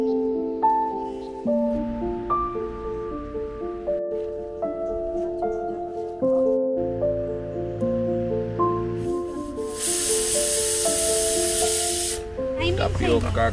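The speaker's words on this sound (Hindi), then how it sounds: "टापियोका का हमारा सिटी लग गया" A pressure cooker whistles while tapioca cooks during a Kerala-style meal on a road trip: a loud, sustained hissing whistle bursts out near the end. Before it, tonal music plays and voices talk.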